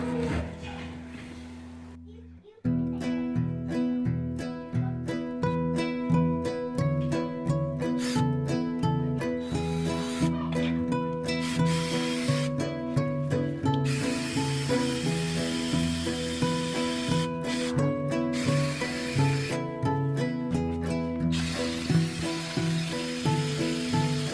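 A power drill whines loudly and continuously, its pitch holding steady with brief dips and grinding bursts as it bores through an exterior metal door.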